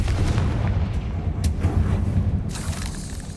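A Confringo fire spell blasts in the Hogwarts Legacy video game amid a fight with spiders, a loud deep booming burst that rumbles low throughout, with a sharper crack near the middle and another flare toward the end.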